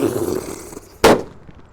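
A green lotus firecracker bursts inside a hole in the ground with one sharp, loud bang after a stretch of fizzing fuse and background noise, then quiet.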